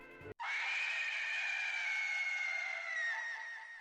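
A video game character's long, sustained high shriek right into a cat's ear, loud and unbroken for several seconds, preceded by a short clipped sound.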